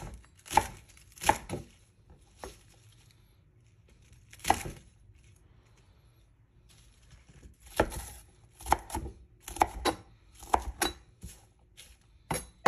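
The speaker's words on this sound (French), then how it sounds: "J'ai ensuite pris un chou chinois que j'ai coupé grossièrement" A knife roughly chops Chinese cabbage on a board, giving close, sharp thuds in uneven bursts: a few early strokes, a pause, then a quicker cluster of chops near the end.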